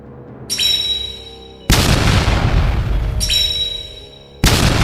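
Booming battle explosions hit in two heavy blasts, each preceded by a rising metallic whine, then a loud rumbling roar that sustains before dropping off, close and alone.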